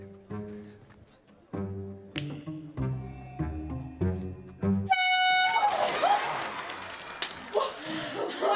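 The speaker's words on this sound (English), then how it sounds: "using this tool, an air horn" A loud, sustained air horn blast cuts in halfway through and holds over a noisy crowd, following a stretch of voices talking.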